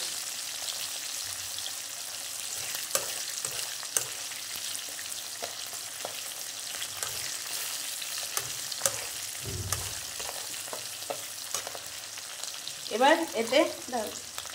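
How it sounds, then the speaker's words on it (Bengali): Chilli, ginger, garlic, dried chilli and nigella seeds frying in oil with two pieces of coconut, a steady close crackle with scattered pops and stirring knocks, plus a short splashy burst near the end. "লঙ্কা, আদা, রসুন দিয়ে, শুকনো লঙ্কা আর কালো জিরে সম্বার দিয়ে বসিয়ে দিয়েছি। এটাকে আগে ভাজবো।"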